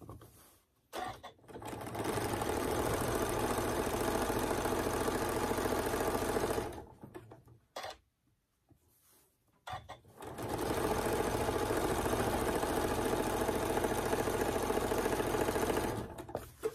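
A sewing machine stitches pinwheel quilt pieces together in two long, steady runs of motor hum and rapid needle clatter, separated by a short pause, close and fairly loud with no talking.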